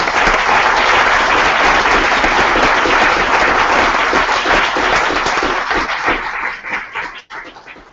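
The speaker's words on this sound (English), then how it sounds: "Let's give a big round of applause to Sunk Investment." Sustained, dense applause fills a conference hall as an audience claps at the close of a climate-change discussion session, loud and steady before thinning out near the end.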